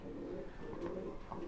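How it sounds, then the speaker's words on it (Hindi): Flying pigeons in a loft murmur with soft low cooing, faint and close, repeating in a gentle rhythm with no talk. "ये सब उड़ान के कबूतर है।"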